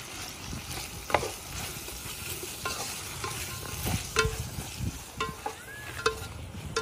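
Spices, cinnamon and tomato sautéing in a pan for Tamil crab curry: a steady close sizzle broken by irregular scraping stirs and light utensil knocks, with no voices.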